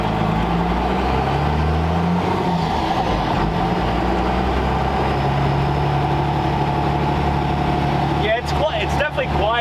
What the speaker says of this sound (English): it sounds like a big rig now. Yeah. I love it. Now you can really hear the turbo out the